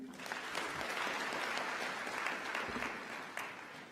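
Steady applause from the audience at a graduation ceremony after thanks to the Madam Chancellor, a dense even clatter of clapping holding moderately loud for the full stretch, with no voices over it.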